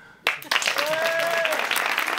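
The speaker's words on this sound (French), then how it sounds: "Par applaudissement, qui aime Hakim?" Applause from a studio audience on a French talk show, starting abruptly after a brief pause and holding as a steady, fairly loud patter of clapping, with a voice or tonal sound rising briefly over it.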